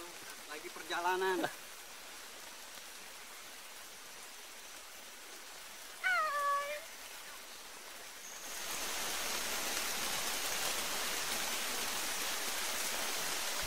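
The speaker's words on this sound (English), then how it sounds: "The rain intensified" Steady hiss of rain swells in partway through, after two brief chirping bird calls over a quiet background.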